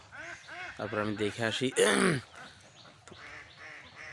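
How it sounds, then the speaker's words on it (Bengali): Domestic ducks on a farm pond let out a run of close, nasal quacks, with someone speaking over and after them. "এক এক করে সব আমার পুকুরে চলে গেল হাঁস"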